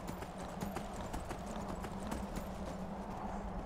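Video game horse hooves clip-clopping in a quick, steady gallop rhythm, faint and continuous under a low background hum.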